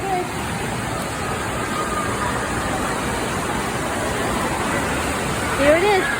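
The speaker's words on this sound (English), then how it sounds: "this is the water park. Indoor park." Rushing water fills an indoor water park with steady broadband roar, like a waterfall or splashing features, constant and moderately loud throughout, with faint distant voices echoing beneath and a brief rise near the end.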